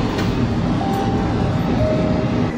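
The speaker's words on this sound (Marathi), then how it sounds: "रात्रीची ट्रेन आहे, त्यामुळे आता मी मला डबा शोधणार आणि छानपैकी झोपून राहणार." Steady low rumble and rolling rail noise inside a night passenger train carriage, a continuous close drone with faint squeals and no talking.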